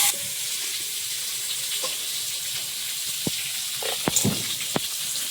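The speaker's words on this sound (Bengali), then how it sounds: "সে বেগুনটা এবার ভেজে নিই" Eggplant frying in a pan in a home kitchen, a steady close sizzle with a few sharp clicks and clatters of utensils near the end.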